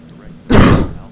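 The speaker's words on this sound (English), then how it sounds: "Sorry for coughing." A single close throat-clearing cough from a man seated at a home flight-simulator setup, one sharp burst that fades quickly.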